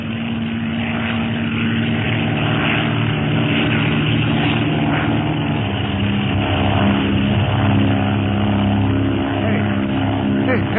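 A propeller airplane drones steadily overhead as a radio drama sound effect, a loud, continuous engine hum with no break across the whole stretch.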